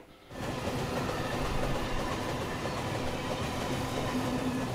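A train hauling iron ore rumbles steadily through land that was rainforest, a loud continuous rolling roar with low rail clatter that starts after a brief quiet moment and holds without voices.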